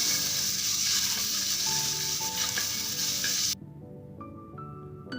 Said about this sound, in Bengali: ডিমগুলো হালকা লাল করে ভেজে নেব